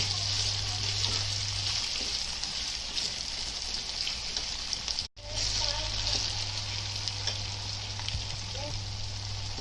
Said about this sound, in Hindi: टमाटे को आधा गलने तक पकाएंगे पूरा